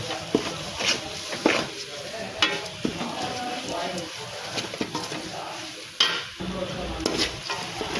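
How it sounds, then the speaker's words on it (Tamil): Onions sizzle and hiss as they sauté in a pan while a spoon stirs and taps, quiet and close, with scattered clicks throughout. "வெங்காயம் நல்லா வதங்கிருச்சு."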